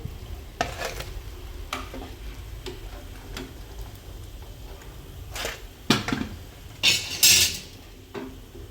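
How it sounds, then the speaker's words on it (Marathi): Patties for ragda pattice deep frying in oil, with a low bubbling sizzle under frequent clinks and scrapes of a metal utensil against the pan, louder bursts near the end. "तर सर्व आपण अशा पद्धतीने तळून घेऊया दुसरी बॅच."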